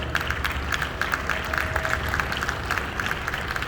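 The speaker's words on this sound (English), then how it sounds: "Let's give them a big round of applause." Audience applause at the Ohio State Fair, steady clapping from a crowd that runs through the whole stretch with a moderate, even level and small bursts along the way.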